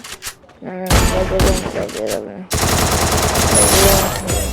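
Gunfire in the Free Fire video game: a short opening burst, then loud rapid automatic fusillades that continue almost without pause, with brief voice-like sounds mixed in.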